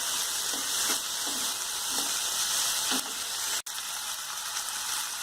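Onions and tomatoes frying for poha, a loud, steady sizzle close up with rhythmic stirring scrapes about every half second and a brief cut near the end.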